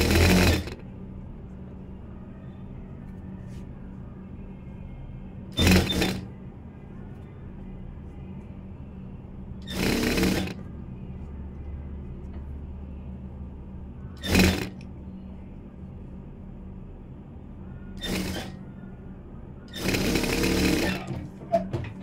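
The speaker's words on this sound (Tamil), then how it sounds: "இப்படியே திருப்பி ஓரமாக தையல் தைச்சிடலாம்" A sewing machine stitches along the edge of a blouse in a steady, continuous mechanical whir, loud and close, broken by several short, louder bursts, with no voices.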